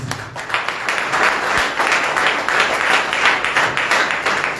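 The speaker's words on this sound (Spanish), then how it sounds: "Dale un aplauso a Dios." A church congregation applauds God, the clapping dense and steady, filling the room for several seconds without a break.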